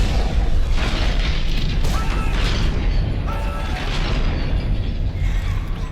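The Kellion's main drive core detonating in Dead Space, a loud sustained roaring blast with rumbling debris and crashing metal filling the whole moment.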